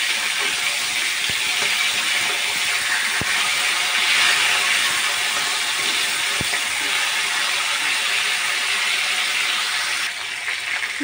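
Fish heads frying in a pan, a loud, continuous sizzle of hot oil with a couple of faint clicks, cutting off abruptly near the end.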